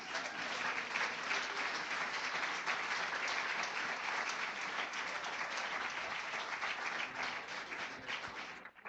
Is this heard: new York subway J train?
no